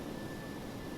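A DC-8-73F freighter's jet engines in Flight Simulator X drone as a steady, broad roar with a thin constant whine over it, holding level with no talk through the moment of added throttle.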